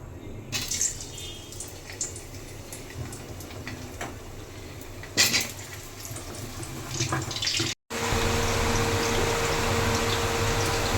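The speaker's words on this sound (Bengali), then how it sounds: "তেল গরম হয়ে গেছে, এখন আলুগুলো ভেজে নেব।" Potatoes fry in hot mustard oil with a steady, loud hiss and bubbling that holds for several seconds, cuts out briefly, then returns more intense and continuous.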